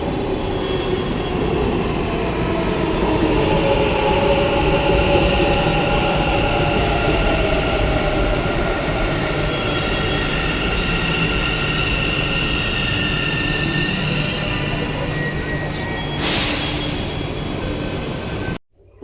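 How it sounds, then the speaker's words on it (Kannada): A metro train pulls into a station, a loud, close rolling roar with squealing wheels held steady throughout before cutting off abruptly at the very end. "ಮೆಟ್ರೋ ಬಂತು."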